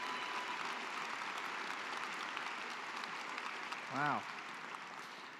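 A graduate recognition ceremony crowd applauds, a faint, even patter of many hands that carries on throughout, with one voice briefly exclaiming near the end.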